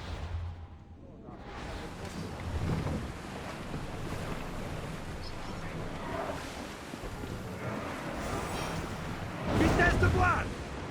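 A sailing ship moves across the open sea in Assassin's Creed, with steady rushing wind and waves washing against the hull in a continuous broad roar that swells louder near the end.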